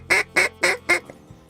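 A Zink ATM double reed duck call, blown softly to coax mallards, gives four quick, evenly spaced nasal quacks close up, then stops.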